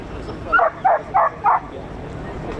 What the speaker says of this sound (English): The dog agrees.